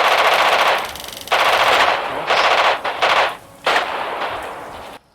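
Machine-gun fire rattles in long bursts at a war video game's town-outskirts perimeter, loud and close, with short pauses between volleys.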